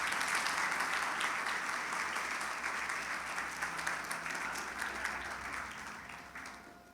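A church congregation applauds in praise, a dense steady wash of clapping that fills the room and slowly fades toward the end.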